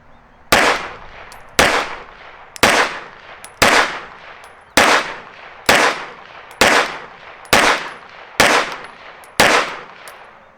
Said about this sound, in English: And I got my Rock Island 1911. Going to shoot a 10-shot group